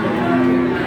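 A cow at a cattle market in Tuban gives a short, loud, steady moo, close by and heard on its own.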